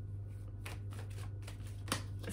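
Tarot cards shuffled in a quick riffle of soft papery flicks and slaps, close and fairly quiet over a steady low hum, with no voices.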